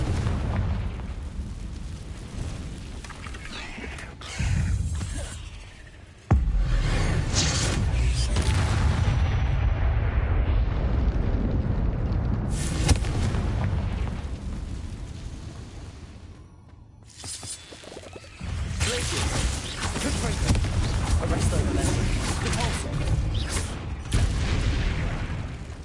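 Confringo fire-blast spells from the video game Hogwarts Legacy, loud booming explosions with roaring bursts that come one after another, separated by brief lulls and sudden sharp onsets.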